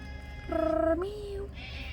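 A cat gives a single short, tonal meow that rises and bends downward, fairly quiet over a faint background hum.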